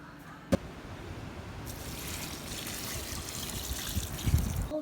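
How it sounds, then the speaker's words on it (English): Cold water trickles and pours onto a container of used coffee grounds, a soft, steady running splash building gradually after a brief knock, faint and close with no talk. "the rest of this, which is just a bunch of coffee grounds, I'm going to add some cold water to"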